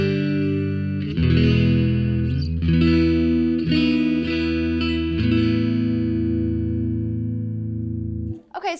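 Clean electric guitar chords through single-coil pickups with reverb off ring out bright and crisp, a few strums sustaining and slowly decaying with no distortion, ending with a brief handling noise.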